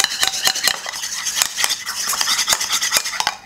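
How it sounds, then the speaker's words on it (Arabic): Spoon stirring mayonnaise with water in a bowl, a rapid series of close scraping and clinking strokes against the dish, loud and uneven in rhythm with no talk. "نخلطو هاد الماء ديالنا هاد لا مايزينا ديالنا هكا"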